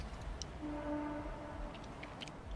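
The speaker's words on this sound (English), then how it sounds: "That's just a train." A distant train horn sounds faintly through woods, a thin steady tone held for under a second amid quiet ambient noise and scattered small clicks.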